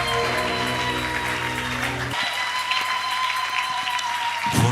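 A church congregation at a Sunday service applauds, scattered clapping over sustained organ or keyboard chords, the applause fairly faint beneath the music.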